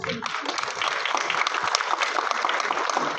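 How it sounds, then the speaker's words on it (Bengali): Crowd applause for a film director at a movie premiere, dense sustained clapping from many hands, fairly close and steady for a few seconds after a brief start. "পরিচালকের জন্য একটা জোরে হাততালি হোক।"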